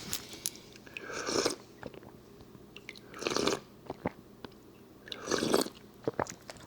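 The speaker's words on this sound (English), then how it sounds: "let me go ahead and start eating" Someone eating squid kimbap at a Korean restaurant, three close, distinct bouts of crunchy biting and wet chewing separated by quieter pauses.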